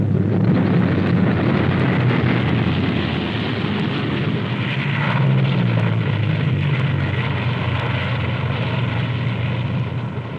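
A YC-123H transport aircraft grossing 62,000 pounds lands in a 1963 tactical weapons test, its engines giving a loud, steady, broadband roar that holds throughout with a slight swell near the middle.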